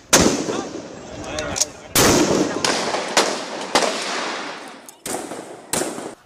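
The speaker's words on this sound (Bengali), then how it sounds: "বেলা ১২টায় চানখারপুলে নিরস্ত্র ছাত্র জনতার উপর চাইনিজ রাইফেলে মুহুর্মুহু গুলি ছুড়ছে পুলিশ।" Police fire Chinese rifles at unarmed protesters at Chankharpul in Dhaka. Rapid sharp cracks come in repeated volleys, loud and close, with a rumbling, noisy crowd between the shots.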